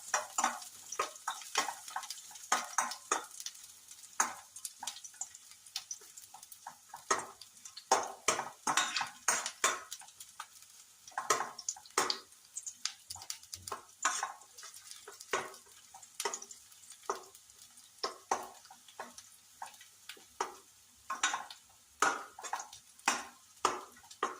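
Onions are stirred and roasted in a pan for a green peas curry: quiet, scattered clicks and light scrapes of a utensil against the pan come in irregular bursts, with faint frying underneath.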